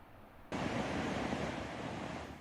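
Niagara Falls, partly frozen during a severe winter cold snap, roars as a dense, steady wash of falling water that swells in abruptly and holds loud and constant, with no voices.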